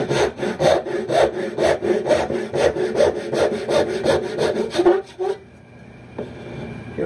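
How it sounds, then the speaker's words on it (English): A dovetail saw cuts through wood in a quick run of about a dozen even push strokes, close and loud, then stops abruptly, leaving a faint room hum and one light knock. "And here's just a real quick cut with my dovetail saw,"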